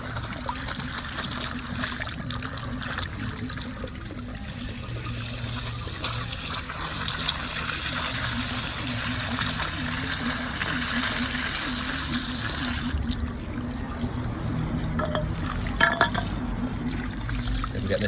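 A hose pipe runs water into a car turbo to rinse it after foaming oven cleaner was used on carbon buildup. The steady gushing and trickling flow lasts throughout, close to the listener, with brief splashy bursts near the end.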